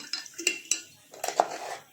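Salt goes into a glass jar for spicy lemon pickle, giving several light clinks and taps of glass and utensil in a quiet kitchen.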